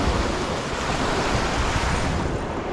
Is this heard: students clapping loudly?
no